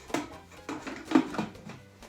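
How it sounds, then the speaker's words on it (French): A lid and measuring cup are fitted onto a Thermomix TM6 mixing bowl, giving a few soft plastic knocks and clicks spaced over about two seconds, close and quiet, with no talking. "il faut ajouter le couvercle et le gobelet doseur"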